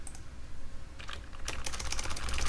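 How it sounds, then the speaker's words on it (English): Fingers typing on a computer keyboard during a livestream: sparse clicks at first, then dense, rapid bursts of keystrokes that grow louder and busier over a low background hum. "I'm typing Z's in chat."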